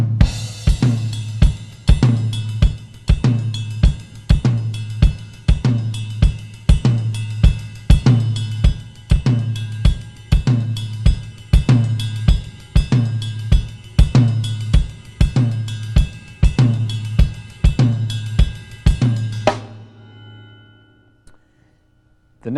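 A funk drum groove with the ride cymbal bell struck by one hand, open cymbal parts, a tom carrying the backbeat and the hi-hat foot keeping eighth notes, a steady loud repeating pattern throughout that stops near the end and rings out.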